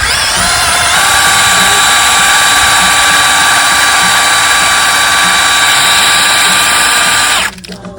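A power drill whines steadily at high speed for several seconds, loud and close, spinning a 1972 Evinrude 9.5 HP outboard gearcase in a water test bucket, then abruptly stops.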